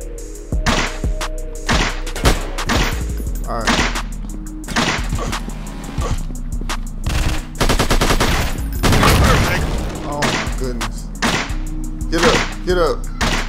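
Gunfire in the video game Agent Roswell, loud repeated sharp shots in irregular bursts with a rapid fusillade near the middle, continuing over a steady low rumble.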